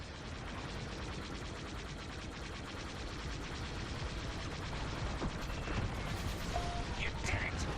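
Dense, continuous gunfire from a shooting video game crackles in rapid bursts throughout, fairly quiet overall, with a few sharper reports and small effects near the end.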